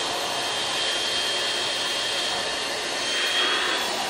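An Atrix Omega HEPA bed bug vacuum runs steadily on a bed, a constant close whooshing motor roar with a faint high whine, holding level throughout with no talk.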